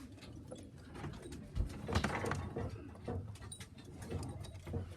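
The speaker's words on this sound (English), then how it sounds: "Hen birds have had their food. They're just wanting a drink now." Hens coo softly in a coop at feeding time, low murmuring calls over a faint background with a soft knock partway through.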